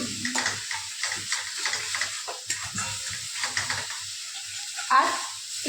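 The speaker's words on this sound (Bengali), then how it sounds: "একটু নাড়বে, একটু ভাজা হবে" Paneer curry with cashew and melon-seed paste being stirred and fried in a pan, with intermittent scraping strokes over a soft sizzle close by.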